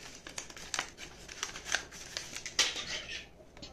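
A paper bag is cut with scissors and handled for a children's party favour craft, producing close, crisp crinkling and rustling with quick snips, the paper louder in a couple of brief bursts.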